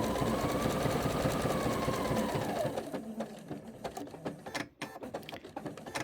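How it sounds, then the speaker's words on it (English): A sewing machine stitches a tiny zigzag on fabric with a fast, close, steady mechanical whir that slows and breaks into separate clicks and clatters toward the end. "And it's a really tiny zigzag stitch."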